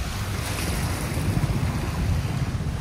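Deep floodwater covers a road after a cyclone, making a steady, dense rush and wash of moving water throughout, mixed with blustery wind noise on the microphone and no talking.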